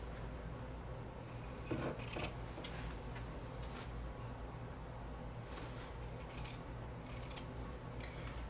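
Scissors snip through fabric darts on a satchel, a series of soft close clicks and crisp cuts over a steady low hum, with no talk.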